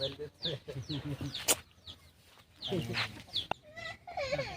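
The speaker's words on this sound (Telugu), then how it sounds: "కోడి పుంజి ఇది" Village country chickens cluck and squawk in short repeated bursts close by, a white rooster among them, with a few sharp calls and rustling between.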